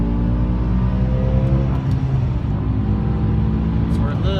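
A BMW M6 fitted with an ESS centrifugal supercharger accelerates in fourth gear, a loud, deep engine rumble heard from inside the car with a rising tone and a faint high whine above it.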